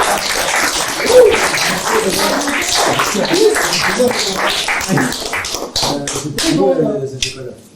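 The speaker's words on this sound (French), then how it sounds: "On peut s'applaudir" Audience applause at the close of a live improv comedy show in a bar, a dense patter of many hands clapping steadily for several seconds with voices and a little laughter mixed in.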